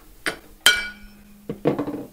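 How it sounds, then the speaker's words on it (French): Steel hammer striking a BMX fork to knock it out of the frame: a few sharp metallic blows, one ringing briefly, then a quick clattering cluster, close and alone. "Un bon coup de marteau bien placé, ça marche aussi."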